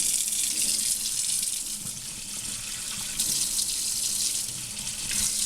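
Lukewarm tap water runs steadily from a faucet into a sink to rinse an African violet, a constant loud hiss and splash with no voices.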